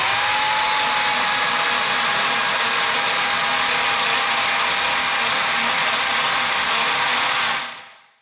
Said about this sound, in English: I'm gonna burn up another drill.